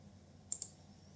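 Two quick, faint computer mouse clicks on a save button in a logistics settings screen, spaced about a tenth of a second apart over a quiet background.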